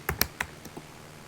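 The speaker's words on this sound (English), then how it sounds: "sorry about typing while recording a voiceover" Keystrokes on a computer keyboard, a few quick clacks clustered near the start and then sparser taps, close and fairly quiet with no voices.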